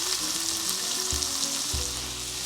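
Onions sizzle steadily in a hot pan for spicy devil shrimp, a continuous close frying hiss with a few soft stirring knocks and no voices.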